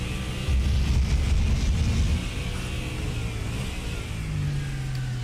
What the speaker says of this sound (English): I'm telling you, it sounds like a big car.